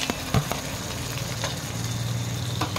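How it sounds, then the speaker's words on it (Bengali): Sesame and poppy seed paste frying in hot spices for a potato and duck egg curry, a steady low sizzle with a brief clatter near the start, no talking. "মশলাটা আমার ভাজা ভাজা হয়ে গেছে, এখন আমি দিলাম তিল পোস্ত বাটা"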